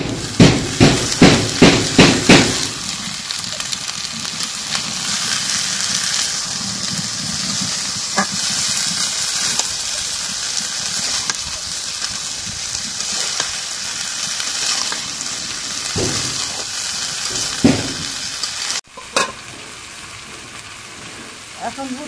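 Chickpeas tipped into a pan of fried spice paste set up a loud, steady hiss and sizzle, led in by a few quick knocks as they go in, and it carries on without a break all the way through.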